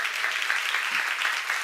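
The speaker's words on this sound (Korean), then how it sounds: "믿는 사람만 박수 한번 드리세요." Church congregation at a seminar clapping together, a brief, dense, even wash of applause that fills the room and stays steady throughout.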